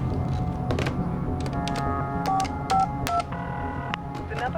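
Telephone keypad tones are dialed in a quick irregular series of short beeps over a continuous low background rumble, each tone close and clear.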